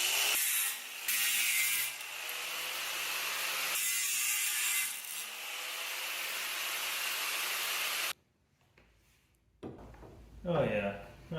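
A car brake dust shield being cut off during a Wilwood brake fit on a V8 Fiero, heard as loud, steady, rasping cutting with short pauses, then quiet with a few knocks and a voice speaking near the end.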